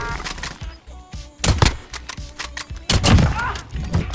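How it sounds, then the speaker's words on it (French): Gunfire in the video game Call of Duty: Warzone, loud bursts of rapid shots in clustered volleys, with some single cracks and a heavier barrage near the end. "Ça tire en masse à gauche là."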